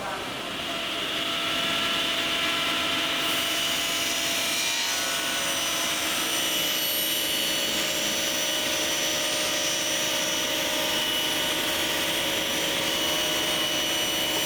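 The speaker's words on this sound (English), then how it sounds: "I could just slowly trim back to that on the table saw" A table saw trims cabinet carcass material in a workshop, its blade whining steadily and loudly throughout after spinning up in the first couple of seconds, with a rough rubbing cut texture underneath.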